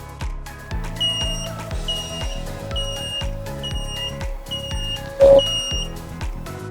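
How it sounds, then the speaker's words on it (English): An electronic device emits a series of short, evenly spaced high beeps, about six in a row, over a low steady hum and background rumble. "So that's an indication, 6 beeps."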